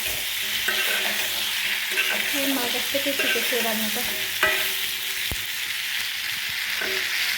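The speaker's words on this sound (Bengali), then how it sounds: "তো বেশ লাল লাল করে ভাজা হয়ে গিয়েছে, এর মধ্যে আমি জল দিয়ে দেবো" Fish curry ingredients fry in a pan with a constant close sizzle while a spoon stirs and scrapes through them. A voice speaks briefly over the cooking.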